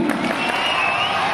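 A school audience at a teacher felicitation ceremony at Islamia School, Kishtwar, cheers and claps for a science teacher. The crowd noise is a brief, loud, dense burst throughout.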